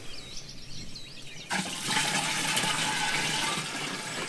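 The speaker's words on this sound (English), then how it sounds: "Pour the rest of this water in here." Water poured into a garden sprayer tank makes a loud, steady rushing gush that starts abruptly and continues evenly, with birdsong faint in the background before it begins.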